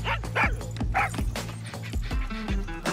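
Dachshund in a Far Cry 6 gameplay trailer barking and yipping in a quick series of sharp, close barks over a low rumbling backdrop.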